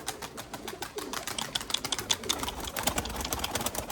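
Lemon breeding pigeons in a loft flutter and scuffle with dense clattering wingbeats and occasional soft coos, close and continuous, with no talking.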